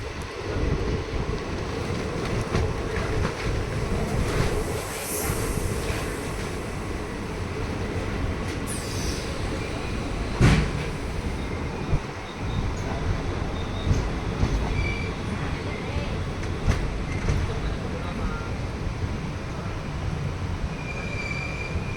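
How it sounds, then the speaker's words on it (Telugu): A train rolls into Giddalur railway station, where double-line works are under way, with a loud, steady rumble of wheels on rails, metallic squeals and clatter throughout, and no voices. "సో ఫ్రెండ్ వచ్చేసి ట్రైన్ గిద్దలూరు రైల్వే స్టేషన్కి అయితే ఎంటర్ అవుతుంది."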